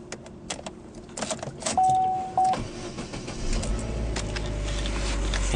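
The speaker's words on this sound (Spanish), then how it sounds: "El vehículo enciende correctamente" A 2015 Chevrolet Sonic LT with manual transmission starts up, with clicks and key or switch noises and a brief whirring crank before the engine catches and settles into a steady, close idle.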